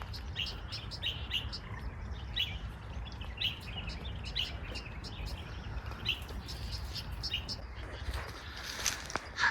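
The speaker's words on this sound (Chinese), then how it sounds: "树林子里面有很多小鸟。" Small birds chirp and tweet in countryside woods near Xingyun Lake in Jiangchuan, Yunnan, with short high calls repeating throughout over a steady low outdoor rumble and faint background sounds.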